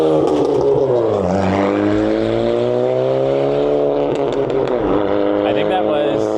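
A car drives loudly past on a Toronto street, its engine drone swelling and sliding in pitch close by, heard from a moving scooter over steady road and wind noise.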